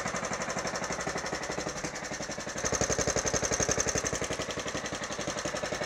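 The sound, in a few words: STX38 Black Deck lawn tractor engine idling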